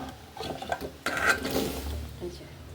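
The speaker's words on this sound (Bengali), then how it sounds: "এখন আমি কুমড়াগুলো দিয়ে দেব" Pumpkin pieces drop into a boiling pot for an oil-free curry, with clattering pot and utensil knocks, stirring scrapes and a soft bubbling underneath, close and busy.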